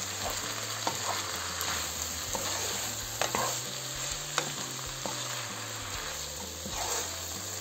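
Egg fried rice stirred in a wok, with continuous loud sizzling broken by repeated sharp scrapes and clinks of the utensil against the metal, close up and with no talking.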